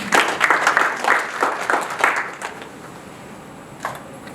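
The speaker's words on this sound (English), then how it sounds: "Let's give them a clap." An audience at a National Bank breakfast gathering claps, a dense patter of hands that fades out after about two and a half seconds, with a few scattered claps trailing into a quiet room.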